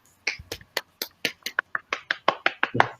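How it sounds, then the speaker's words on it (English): A small group at a business book award ceremony claps briefly, sharp separate handclaps at a quick uneven pace for about three seconds. "I guess Mihir deserves a clap for winning this book."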